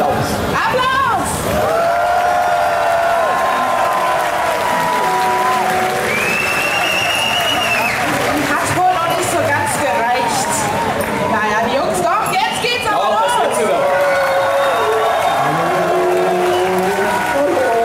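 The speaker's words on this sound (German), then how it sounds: "freuen sich natürlich über einen großen Applaus. Applaus!" Applause and cheering from a Gamescom stage audience at a Mario Kart Let's Play event, sustained and fairly loud, mixed with game racing sounds and a presenter talking over it.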